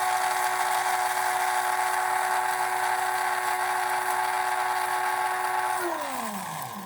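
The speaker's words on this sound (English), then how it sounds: "put it in our coffee grinder, and we're going to grind it" An electric coffee grinder whirs steadily at close range, a constant high motor hum that holds for several seconds, then winds down with a falling pitch as it switches off.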